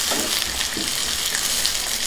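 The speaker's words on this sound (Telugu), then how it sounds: "వీటిని బాగా వేగనిద్దాం." Onions, curry leaves and spices frying in hot oil in a pan for gongura mango dal, a steady close sizzle with faint stirring scrapes and no voices.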